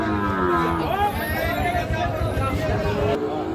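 Several Sahiwal bull calves moo and low repeatedly, overlapping, amid a busy crowd of people talking all around at a livestock market.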